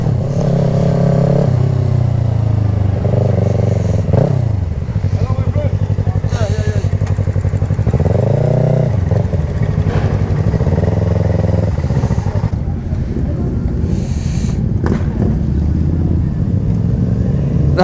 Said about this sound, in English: That MT-07 sounds nice.